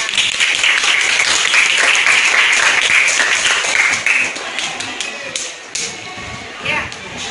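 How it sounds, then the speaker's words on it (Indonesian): A classroom of pupils claps for a classmate, brisk clapping that is loud at first, then thins out and trails off, with children's voices and chatter mixed in. "Tepuk tangan."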